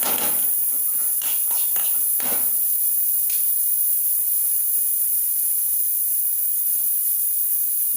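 Coriander seeds and cumin hit hot oil for a Mangalorean bitter gourd chutney, giving a few sharp sizzling bursts early on that settle into a steady, fairly quiet hiss of frying.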